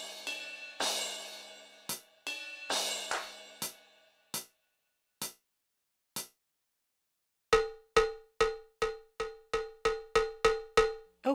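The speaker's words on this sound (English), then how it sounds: "the only prescription is more cowbell" Cowbell hits from a Yamaha RX5 drum machine, starting with a few scattered strikes and ringing tails, then a fast, even run of bright, clanking hits, close and alone with no voices.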